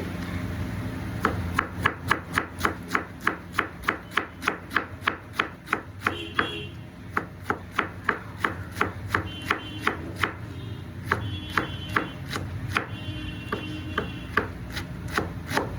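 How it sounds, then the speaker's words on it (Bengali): A knife chops cabbage on a cutting board in quick, steady strokes, a crisp close chop roughly every half second that continues without pause and with no talking. "বাঁধাকপিগুলো কেটে নেবো তাড়াতাড়ি করে বাঁধাকপিগুলো কেটে নেব"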